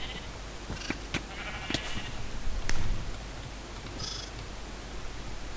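Sheep in a video game give short bleats now and then, mixed with sharp clicks and bursts of synthetic game sound over a low background hum.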